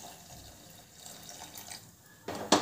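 A glass of water is poured onto half a kilo of maida flour and half a kilo of sugar in a home kitchen. After a quiet stretch there is a short, sudden splash near the end.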